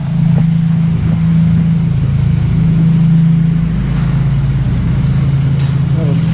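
A 2007 Nissan Sentra SE-R with a new exhaust pipe pulling away, its deep exhaust drone loud and steady throughout, with wind noise outdoors and no clear talk.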